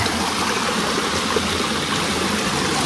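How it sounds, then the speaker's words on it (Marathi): A small mountain stream flows on the Bhimashankar trek via Ganesh Ghat, a steady close babble and trickle of water running without a break, with no voices over it. "जरा झरण्यामध्ये छोट्या छोट्या झरण्यामध्ये आम्ही बसलेलो आहे"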